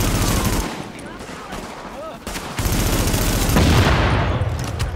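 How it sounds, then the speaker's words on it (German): Gunfire and a flashbang grenade in Tom Clancy's The Division video game: loud, dense bursts of automatic shots with a sharp blast, as players talk briefly over the chaos. "Oh, Blendgranate."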